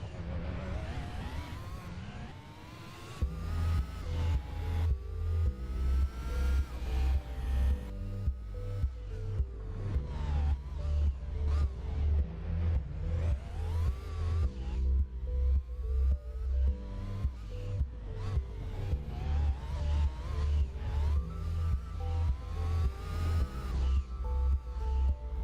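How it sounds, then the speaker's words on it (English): A Toyota Tacoma Pikes Peak race truck in a racing video game, its engine revving hard with rising and falling pitch sweeps and rapid gear-shift pulses, loud and continuous throughout, with game music or effects layered over it. "I've actually seen videos of the Tacoma Pikes Peak. It sounds like a freaking demon."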